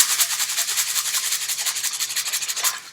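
A larger homemade rice shaker shaken fast and evenly, making a dense continuous hiss of rice grains with quick pulsing strokes, close up and alone, fading at the end.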